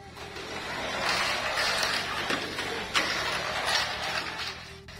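Tamiya Mini 4WD car on an MA or VZ chassis fitted with a side damper or B-Max, running around a plastic track with double bounce and Magnum Tornado sections, giving a steady whirring motor whine and rattling with a sharp knock near the three-second mark.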